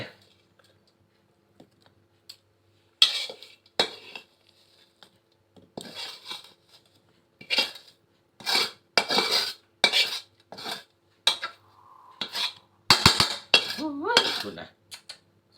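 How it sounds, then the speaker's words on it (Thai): A spoon clinks and scrapes against a pan and plate in scattered, sharp bursts as dry stir-fried field rat is served, with quiet gaps between the scoops. "ตักลงจานครับ"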